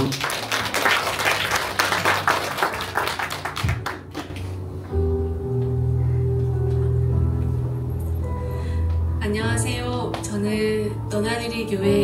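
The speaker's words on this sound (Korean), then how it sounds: "우리 박수로 좀 환영할까요?" A church congregation claps to welcome a woman coming forward to share at a Sunday service, a dense burst of applause lasting about four seconds before fading into quieter room sound with soft music-like tones.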